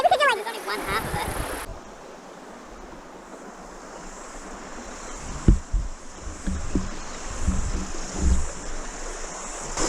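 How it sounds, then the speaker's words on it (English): Small homemade aluminum boat being paddled on open water, with wind buffeting and lapping splashes, a few sharper paddle strokes near the middle, and a brief voice at the start. "I got my daughter here paddling us"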